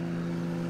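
Steady, powerful boat motor drone in the Roblox game SharkBite 2, a loud continuous hum holding one pitch throughout with no voices.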